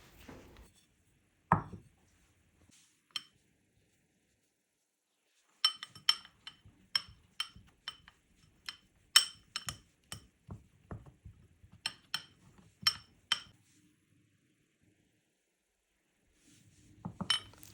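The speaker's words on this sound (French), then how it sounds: "tu tasses avec une cuillère à soupe." A tablespoon tamping a biscuit base down into a plastic or glass container for a no-bake cheesecake, giving a run of sharp, irregular taps and clinks close by with quiet gaps in between.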